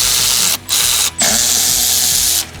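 Up close, a power tool whirs in three short bursts separated by brief pauses as it backs out Torx valve cover bolts on a Camaro engine being repaired for a blown head gasket.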